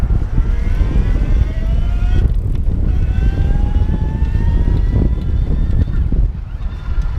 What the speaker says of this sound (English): It's just one of the best drive systems out there, but it does produce some noise, so let's listen again.